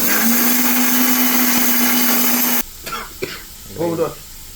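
A kitchen mixer grinder runs loud and steady, grinding spices into powder for a Mangalore-style chicken sukka, then cuts off abruptly partway through; a few faint clatters and brief voices follow.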